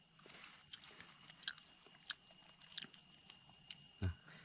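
Grilled bird meat being chewed outdoors at a farm field, with soft crunchy bites and mouth sounds at a steady, close pace, several sharper crunches standing out, and a louder thump near the end.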